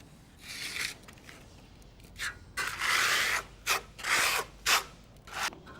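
Trowel scraping across a stone-finish plaster coating on a wall, swept in different directions, giving repeated close, raspy bursts of rubbing with short pauses between strokes.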